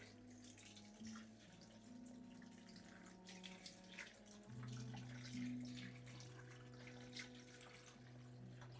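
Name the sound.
water being poured into a pot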